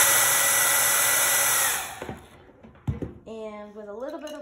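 A handheld blow dryer blows loudly and steadily for almost two seconds while drying wet paint on a lizard painting, then cuts off, followed by some soft handling noises and a short stretch of speech.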